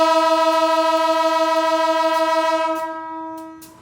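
A loud, sustained horn from the departing Penataran Doho train in East Java blares for several seconds, then cuts off, leaving fading rumble and a couple of faint clanks.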